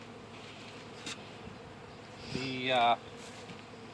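Honey bees buzz at a hive, a faint hum in the background with one bee droning close by for a moment, plus a brief spoken word.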